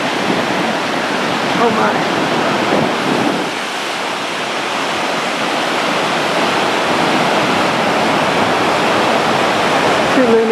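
Atlantic Ocean surf pounds the Puerto Rico coast in a dense, continuous roar of crashing waves, loud and close, with a brief startled voice briefly over it.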